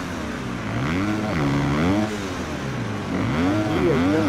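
A privateer Kawasaki 250 supercross motorcycle on the gas at a stadium main event, its engine note rising and falling in repeated revving sweeps as it charges over jumps, loud over a steady crowd and arena rumble.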